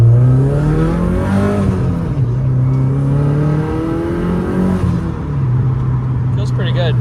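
A Subaru WRX with a new MAF sensor and tune accelerates in first gear, its engine note rising and falling steadily close by, with people talking over it throughout.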